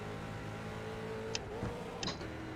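Street stock race car engine droning steadily in the iRacing sim at a race start, a sustained low engine tone with a brief rev change after a missed shift, heard alone without talk.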